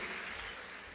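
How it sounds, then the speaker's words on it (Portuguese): Audience applause at a women's church conference, a brief burst of dense clapping that starts fairly loud and fades slightly over a second, with no voices. "Pode aplaudir o Senhor"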